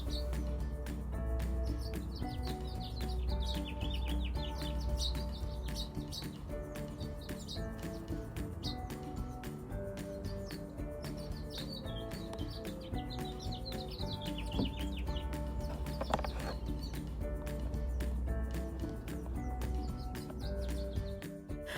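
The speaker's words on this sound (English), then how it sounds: "do you hear the happy birds in the background?" Small birds chirp and tweet faintly in the background, scattered high calls sitting under steady music with sustained tones throughout.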